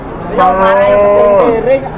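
A cow moos once in a long, wavering bellow that rises and then falls, close and loud, with faint voices of people nearby.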